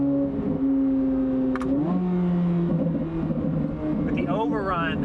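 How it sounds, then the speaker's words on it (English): A Corvette Z06 with a Valvetronic Designs titanium exhaust and OEM downpipes, valves open, holds a loud steady engine drone that steps up in pitch as the car shifts, while someone talks throughout. "If I'm back, the valves open and you get that aggressiveness."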